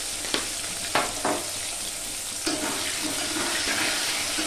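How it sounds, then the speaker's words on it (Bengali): Potato pieces fry in hot oil with salt and turmeric in a pan, a continuous close sizzle broken by a few sharp clatters and stirring scrapes, with no speech. "তো লবণ আর হলুদ দিয়ে আলুটাকে একটু লাল লাল করে ভেজে নেব।"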